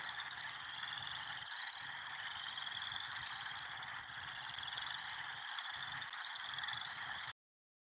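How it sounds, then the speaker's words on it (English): A dense chorus of many frogs croaks steadily and loudly at a frog concert, a continuous layered trill with no talk, cutting off abruptly just before the end. "I think more frogs joined in the action that were passing before"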